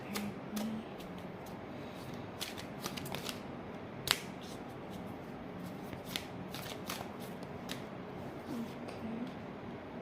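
Tarot cards are shuffled quietly and close by, a continuous soft riffling patter with occasional sharper snaps and taps, and no voice.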